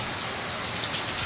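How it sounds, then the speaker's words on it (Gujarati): Heavy rain pours down steadily in a dense, continuous hiss of drops striking surfaces, close and even throughout with no voices. "હાઈ ક્લાસ જોરદાર વરસાદ"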